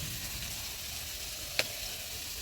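Onions frying in a pan, a quiet, steady sizzle with a single faint clink near the middle.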